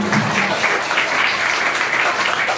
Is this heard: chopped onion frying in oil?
no